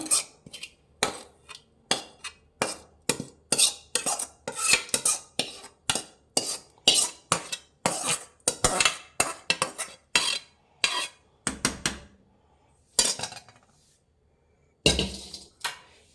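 Repeated rhythmic scraping and clanking of a spoon stirring bisi bele bath in a metal pot, fast strokes continuing before a brief pause and a final few scrapes.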